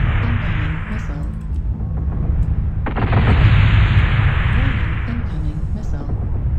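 Incoming missile explosions in MechWarrior Online, a steady rumbling barrage of loud blasts with a sharp burst midway, sustained and close under the battle noise.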